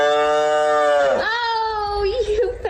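A baby calf lets out one loud, drawn-out moo up close, its pitch sliding down into a wavering tail, with people nearby.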